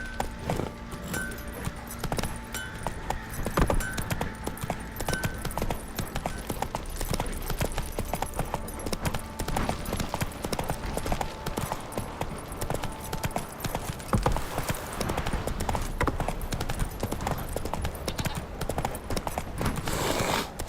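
Roach, a horse in a video game, gallops with rapid, continuous hoofbeats, loud and close, over a faint game backdrop.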